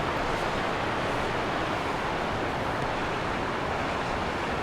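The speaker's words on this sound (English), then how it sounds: "we can have a really good look at these waves" Storm-driven waves break against a headland coast, heard as a loud, continuous roar of surf mixed with blustery wind buffeting the microphone, with no voices.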